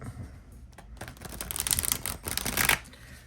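A gilded tarot card deck is riffled and shuffled, quiet handling at first, then a run of quick crisp flutters and snaps building through the middle and ending in a final burst, close and with no talk.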